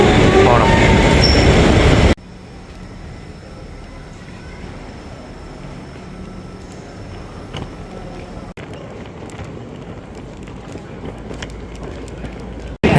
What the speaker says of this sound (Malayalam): ഇനി നമുക്ക് ഈ ട്രെയിനിൽ കയറിയാണ് ഗ്യാറ്റ്വിക് എയർപോർട്ടിലോട്ട് പോകേണ്ടത്.